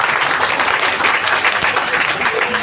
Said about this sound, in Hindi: इनके लिए एक ज़ोरदार ताली बजा दीजिए